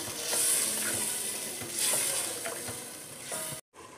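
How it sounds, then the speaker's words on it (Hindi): Mutton fries in a pan with yogurt, garlic and whole garam masala, a close, steady sizzle broken by scraping stirs, with a brief drop to near silence near the end. "इसे मैं भून रही हूँ दही और लहसुन के साथ"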